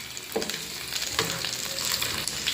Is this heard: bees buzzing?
no